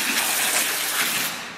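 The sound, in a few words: rinsing salted cabbage with water for kimchi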